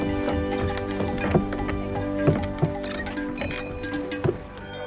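A herd of cattle clatters onto a lake boat at an Alpine harbour, with hooves knocking on the deck in irregular, fairly close thuds and clinks over a steady background hum.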